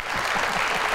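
Studio audience clapping on a talk show; a brief burst of steady, close applause fills the whole moment.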